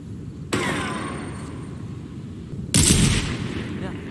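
Two sharp gunshots in a video game, one near the start and a louder, heavier one later, each followed by a lingering ringing tail over steady background noise.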